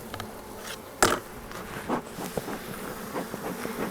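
Honey bees buzz around a beehive during a fall inspection, a close, wavering drone with a few louder passes near the microphone and some light handling noises, no talking.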